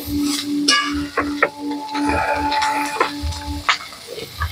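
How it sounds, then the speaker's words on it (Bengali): Fried cauliflower and potato pieces being sautéed in a pan, with a steady soft sizzle under repeated close scrapes and knocks of a spoon against the pan, and no one talking. "এবার ভেজে রাখা ফুলকপি আলু দিয়ে দেবো। দিয়ে এটা ভালোভাবে কষাই করে নেব।"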